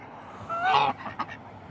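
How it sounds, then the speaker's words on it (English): Ducks at a pond let out a brief burst of nasal quacking, one louder call followed by a couple of softer ones, close by against a quiet outdoor background. "All the beautiful ducks here."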